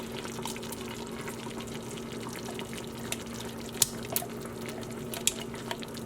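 Broth, one cup of it, runs into an Instant Pot pressure cooker already holding pureed pumpkin and browned pork, a soft continuous close pour with a few small clicks and drips, no talking.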